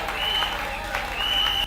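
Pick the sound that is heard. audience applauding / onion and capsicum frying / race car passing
audience applauding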